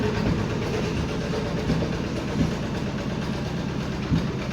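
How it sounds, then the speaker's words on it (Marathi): A small farm tractor runs at a steady idle, its engine a continuous, fairly close rumble with faint periodic knocks and no voices. "ट्रॅक्टर चालू केले भाऊ ट्रॅक्टर छोटासा चालवले"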